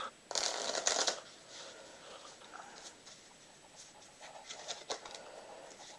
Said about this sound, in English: I'm going to shuffle up the cards.